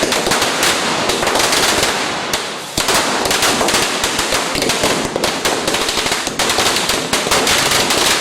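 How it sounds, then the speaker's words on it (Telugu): Firecrackers burst in dense, rapid volleys during a shop's festival celebration with family, loud and close, the crackling strings running almost without pause apart from one brief lull. "అనంతరం కుటుంబ సభ్యులతో కలిసి టపాసులు పేల్చారు"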